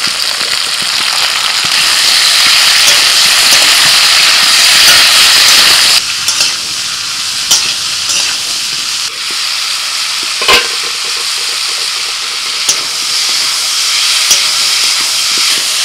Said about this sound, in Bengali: পুঁই ডাঁটা, আলু আর কুমড়ো খানিকক্ষণ ভাজার পরেতে দিয়ে দিচ্ছি ঝিঙে আর পটল।